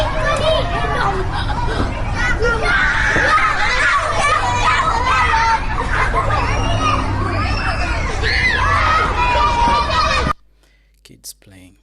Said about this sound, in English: kids playing.